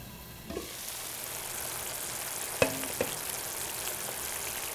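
A spoon stirs palak chicken gravy in a pan that has simmered on a slow flame. Soft sizzling runs throughout, with a few distinct scrapes and knocks against the pan in the middle.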